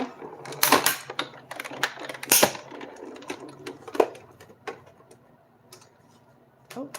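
A die cutting machine runs paper and a die through its rollers, giving a series of irregular clicking and ticking mechanical sounds. The clicks are loudest early, then fade to quieter scattered ticks with a final click at the end.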